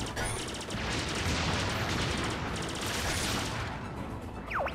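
Rapid laser fire from the Arwing in the video game Star Fox Zero rattles on continuously and loud as a dense, pulsing stream of shots, ending with a rising sweep.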